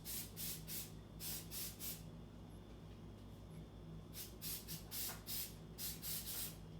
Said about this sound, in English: So I'm going to go ahead and spray each side lightly.